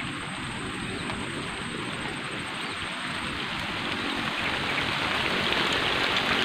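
Light drizzle falls outdoors during a fishing outing, making a steady, even hiss of fine raindrops on surfaces, close and continuous with a slight build toward the end, with no talking.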